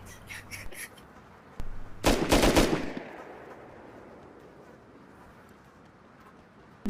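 A burst of rapid gunfire in a battle royale video game, a dense volley of shots lasting about a second, followed by a fading low rumble and quiet background.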